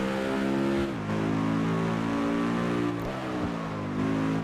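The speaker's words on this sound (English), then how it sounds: "Oh, no, it's a V10. Listen to it rev up." A loud V10 car engine in the video game Test Drive Unlimited 2 revs up and down repeatedly, its pitch sweeping upward then dropping at gear shifts, a sharp high-revving race-car tone close by.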